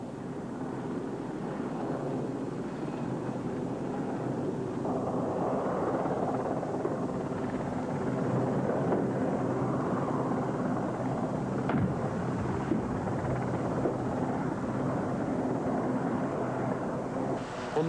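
Rotor noise and wind rumble fill the air as helicopters fly over Falklands cliff tops in 1982, a continuous, fairly loud wash with no voices.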